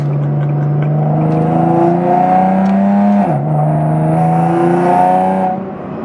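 Supercharged Nissan 370Z accelerating hard, its engine note climbing steadily through the revs with a supercharger whine on top, one gearshift dip midway, then climbing again before easing off.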